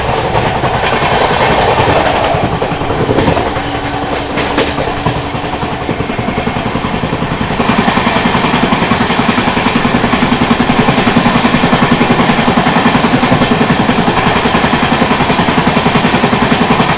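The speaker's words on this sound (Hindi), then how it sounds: "यहाँ पर हम लोग ओवरटेक कर रहे हैं पुणे सुपौल एक्सप्रेस को।" The Banaras Superfast Express runs at speed past the Pune Supaul Express waiting on a loop line, heard from aboard as a loud, steady rumble with rhythmic clickety-clack of wheels over rail joints.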